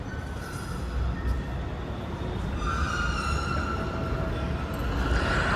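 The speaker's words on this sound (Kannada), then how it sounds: "ನಾವು ಮೆಟ್ರೋ ಸ್ಟೇಷನಲ್ಲಿ ಇದ್ದೀವಿ" Ambience inside a metro station in Bengaluru, with a steady low rumble of a train and a faint high squeal rising midway, continuous and moderately loud throughout.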